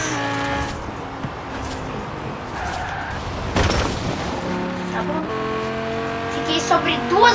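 A Lamborghini Gallardo racing at high speed and braking for a curve, its engine droning with shifting pitch as a voice talks over it throughout.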